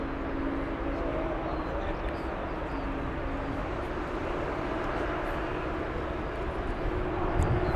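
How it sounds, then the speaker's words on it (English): A Sky Express Airbus A320-214 from Athens lands at Frankfurt, its engines a moderate, steady rumble with a faint whine, while a person talks intermittently over it. "It's coming in, a Sky Express Flight 6MA. It's coming in from Athens, Greece on an"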